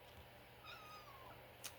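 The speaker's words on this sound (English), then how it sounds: "I have a cat on my back." A single drawn-out cat meow, fairly faint, from a cat perched on a person's back indoors, with a short rising pitch sweep followed by a brief click near the end over low room hum.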